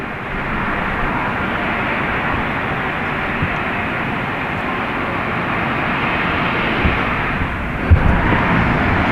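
An airplane at an airport next to a state police post produces a steady, loud engine roar that fills the scene throughout. The sound does not change much over its length.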